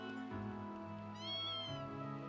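A cat meows in the video game Trails of Cold Steel, a clear rising-and-falling cry heard alone over steady game background music, close and moderately loud.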